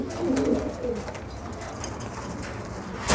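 A black pouter pigeon coos in soft, low rolling notes near the start, close by and fairly quiet, followed by faint handling and background noise.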